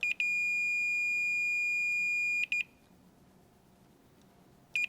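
A multimeter's continuity beep sounds while testing the terminals of a dual burner infinite switch from a Frigidaire range: a steady, piercing tone holds for about two seconds, then breaks into brief chirps and falls quiet until one more short beep.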